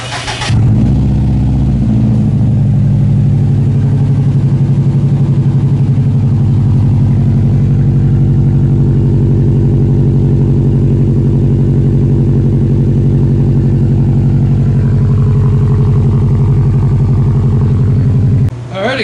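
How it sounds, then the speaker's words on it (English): A Subaru STI cold-starts with only the intermediate pipe and Y pipe fitted, catching abruptly and then holding a loud, steady, deep idle for nearly twenty seconds before cutting off. "here is a cold start with just the intermediate and the Y pipe."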